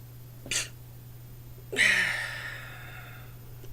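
A single nearby sneeze, with a short sharp intake at first and then a loud, breathy burst that trails off, over a steady low electrical hum.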